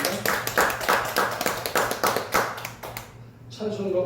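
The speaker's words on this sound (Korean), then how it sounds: "감사의 박수를 올려드리겠습니다" A church congregation claps in a steady, rhythmic pattern for a few seconds after a sermon before the clapping fades out into a voice.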